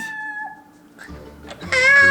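A cat-like meow from a video game, a couple of tonal, wavering cries that rise into a louder, brighter final call, close and loud, with game noise beneath and no clear talking.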